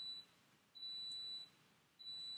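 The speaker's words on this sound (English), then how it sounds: "that's our dishwasher, and it's going to beep for a few times more" A household dishwasher sounds a thin, high electronic beep in three evenly spaced pulses, each held for about half a second, faint against a quiet room.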